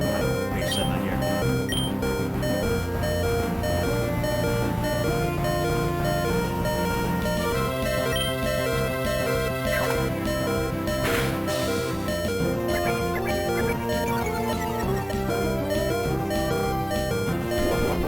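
Pokémon Ruby game audio with background music running and a repeating low-HP warning beep looping steadily throughout, loud and continuous.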